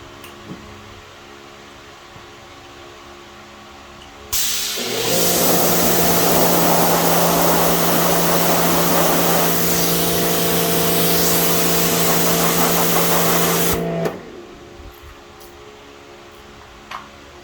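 A loud, steady hiss of water spraying off a car tire starts abruptly, holds for about nine seconds against a mechanical drone, then cuts off sharply.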